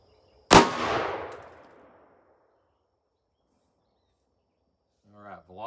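A single loud rifle shot from a .300 Blackout firing a Nosler 110 grain Varmageddon round into a ballistic gel block, with a sharp crack and a decaying echo, followed by a brief voice near the end.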